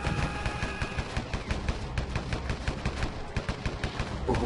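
Gunfire in the RamBo video game sounds as a dense, steady stream of rapid shots, loud and continuous throughout.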